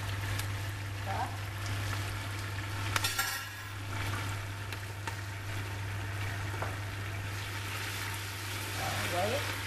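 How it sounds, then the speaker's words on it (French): Rice for riz gras being stirred in a cooking pot with a spoon scraping the bottom, soft scraping and light sizzle under a steady low hum, with occasional clinks and a faint voice in the background. "elle colle un peu au fond de la marmite, mais toujours remuer"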